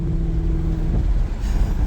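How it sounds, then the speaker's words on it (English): A Mercedes E63 AMG with a 600 hp engine rumbles loudly up close, its deep exhaust note rising and thickening as the engine revs. "This car literally sounds like all hell is breaking loose."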